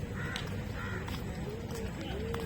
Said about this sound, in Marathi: पक्ष्यांचा आवाज खूप सुंदर येतोय